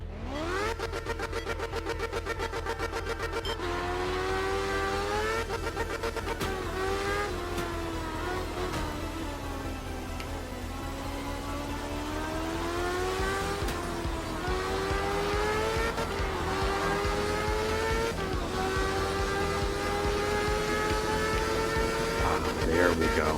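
A race car engine in a racing video game revs high and steadily throughout, its pitch climbing and dropping with gear changes. A loud, continuous whine is heard with no speech over it.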